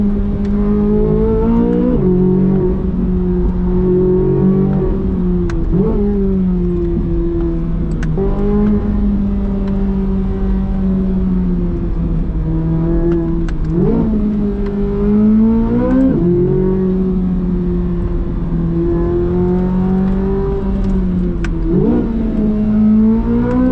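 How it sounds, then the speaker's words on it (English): A 2024 Chevrolet Corvette Z06 engine revs hard while driving on a proving ground, rising and dropping through repeated gear changes, loud and close, with no talking. "how about a little bit of Z06 noise without me talking?"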